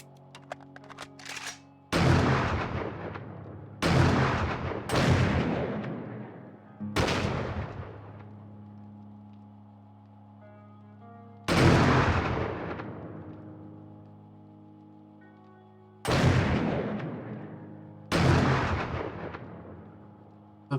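Heavy shotgun blasts from an auto shotgun in the zombie survival game 7 Days to Die, seven loud booming shots in irregular bursts, each with a long ringing decay over a low droning game background.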